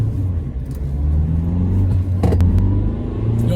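A Mahindra XUV300 W8 diesel SUV accelerates hard, its engine a loud, close, continuous rumble with a rising drone and a brief whir partway through.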